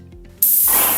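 Wagner Control 150M paint sprayer spraying paint, starting abruptly with a loud, steady airy hiss that holds to the end after a brief quiet lead-in.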